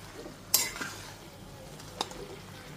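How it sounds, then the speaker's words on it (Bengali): A spoon stirring sugar into vegetable labra in a pot for a Lakshmi puja offering, with a few light clinks against the metal over a faint simmering sizzle. "চিনিটা দিয়েও খুব ভালো মতো মিশিয়ে নিচ্ছি"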